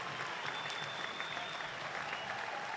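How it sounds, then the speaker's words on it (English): Spectators at a track cycling Nations Cup in Adelaide, Australia, cheer and applaud after a team race. The crowd noise is a continuous, even roar from the far side of the velodrome with a faint whistle-like tone on top. "Huge crowd support,"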